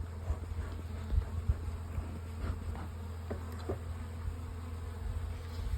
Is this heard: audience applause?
no